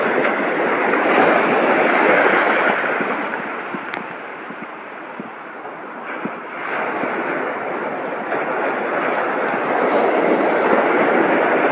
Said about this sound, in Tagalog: Ayun, lalaking alon sa unahan.